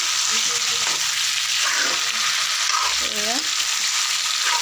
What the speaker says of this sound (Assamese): এয়া মাংসখিনি ভাজত মই আলু দি লৈছোঁ